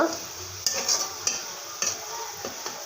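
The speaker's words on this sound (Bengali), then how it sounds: "এখন আমি পেস্টটা ভেজে নিচ্ছি" A spice paste fries in a pan for a winter vegetable dish, giving a steady soft sizzle broken by a few sharp scraping stirs of a spoon, heard close up with no talking.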